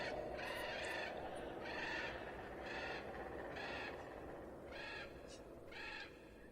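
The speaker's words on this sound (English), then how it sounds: "Ah, the lovely calls of the birds of the Kfa." Bird calls from the Kfa region in the video game Avadon: The Black Fortress: a series of six or so repeated hooting, owl-like cries at a steady rhythm over a constant rushing ambient bed.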